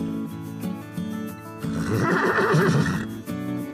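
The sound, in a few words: horses neighing wildly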